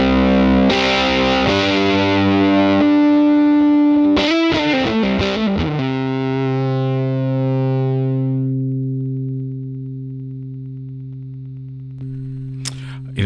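An electric guitar played through a Line 6 Helix default amp and cab sounds fuzzy and distorted: several struck notes, a quick run of picked notes, then a long sustained chord that slowly fades, with no talking.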